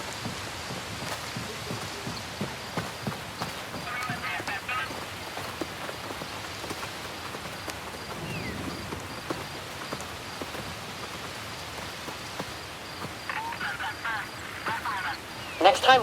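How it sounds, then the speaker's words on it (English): Steady rain falls on the planet Akiva in the video game Star Wars Outlaws, a continuous close hiss of drops and spatter lasting throughout, with occasional faint game sounds behind it. "I heard Akiva was paradise. Too much rain for me,"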